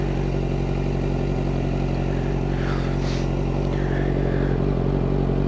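A car engine hums loudly and steadily while the car sits in neutral, a constant low drone with faint rattles and a slight swell rather than sharp revs, heard close from inside the cabin.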